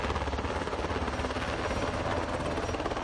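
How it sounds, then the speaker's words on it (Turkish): A helicopter's rotor thumps in a fast, steady rhythm with a loud, continuous engine roar close by. "öğrenciler de sınava girsin diye helikopter kaldırıldı."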